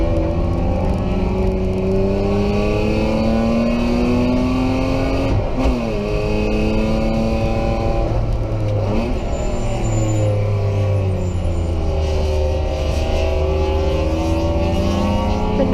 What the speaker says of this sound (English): I did my best to modulate the throttle and keep the BMW moving forward